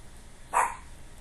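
A single short, fairly faint dog bark from one of three dogs inside a house, heard alone over quiet background.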